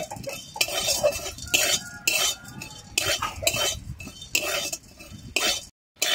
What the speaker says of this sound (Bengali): আমি কড়াইতে, শুকনো কড়াইতে দিয়ে দিচ্ছি এখানে গোটা জিরে নিয়েছি 1 চামচের মতো, আর নিয়েছি গোটা গোলমরিচ। আমি এবার এটাকে ভেজে নেব।